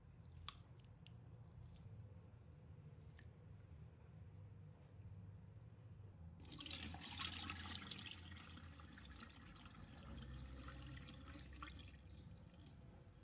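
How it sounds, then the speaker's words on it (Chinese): Rice grains are washed by hand in a basin of water, soft sloshing and squishing that swells louder partway through as the hands rub the grains, with light drips. "倒入清水，米粒在水中翻滚起来，搅起一片浑浊，双手轻搓，让每粒米都被洗净"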